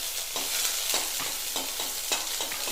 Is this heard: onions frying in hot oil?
yes